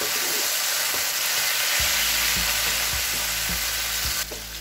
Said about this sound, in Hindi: अब मैं इसमें 1 चम्मच जो है ये ज़ीरा डालूंगा और ज़ीरा डाल के इसको थोड़ा सा फ्राई कर लूँगा।